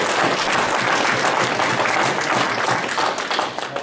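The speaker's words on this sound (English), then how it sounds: "So let's give the ladies a big round of applause for lunch." A conference crowd gives the ladies who cooked lunch a big round of applause, loud and steady clapping that carries on evenly and thins slightly at the end.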